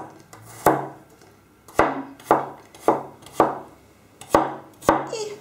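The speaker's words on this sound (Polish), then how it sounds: "Kończę kroić czosnek. Robię to w takie dosyć cienkie plasterki." A knife slices garlic into fairly thin pieces on a cutting board, giving about eight crisp, evenly spaced chops, close and clear, with no talking.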